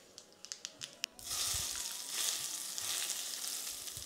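Hot tempering with red chilies and fresh curry leaves poured onto tomato coconut chutney: a few quick crackling pops, then a sudden loud, sustained sizzle that hisses on steadily, close and alone.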